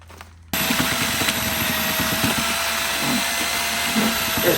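A power drill starts abruptly and runs continuously, a loud steady whine with churning, slapping sounds of thick joint compound being mixed with water.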